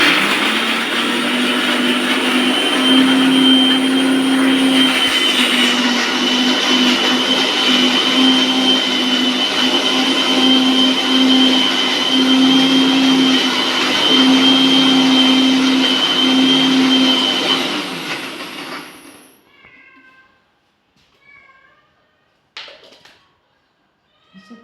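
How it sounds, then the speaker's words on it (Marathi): A kitchen mixer grinder whirs loudly and steadily for about nineteen seconds while grinding raw mango chutney with water, then switches off and winds down, leaving a few faint clinks. "थोडं पाणी टाकून आणखीन एकदा मिक्सरमधून काढून घ्या."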